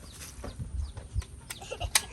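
Chickens in a Filipino backyard farm give scattered, moderately loud clucks amid thumps and a brief flurry of movement, with irregular bursts rather than a steady rhythm.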